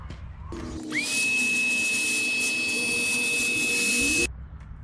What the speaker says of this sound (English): So I'm just going to hit it with the compressor